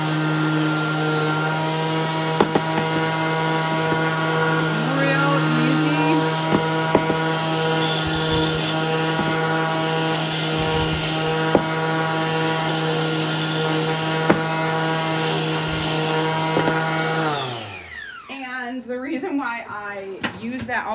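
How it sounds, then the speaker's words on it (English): A round rotary sander grinds on wood for a Dollar Tree DIY craft project, giving a steady, loud motor whine that runs unbroken for most of the clip before abruptly shutting off and winding down near the end. "It's one of these, round. I forget the word, rotary, whatever. It does a really good job of sanding."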